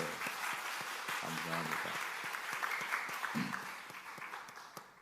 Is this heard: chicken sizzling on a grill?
no